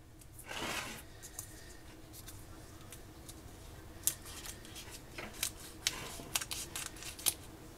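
Kitchen scissors snip through a whole raw chicken being opened up for garlic rosemary rotisserie cooking, giving a series of faint, sharp cuts and crunches that grow more frequent toward the end, with quiet handling noise between them.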